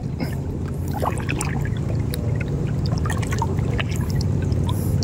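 Strong river current rushing steadily around a snagged fishing line, a continuous loud wash of flowing water with small splashes throughout.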